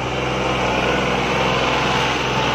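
A New Holland 5620 tractor engine runs steadily nearby, a continuous buzzing mechanical drone at even loudness with no speech.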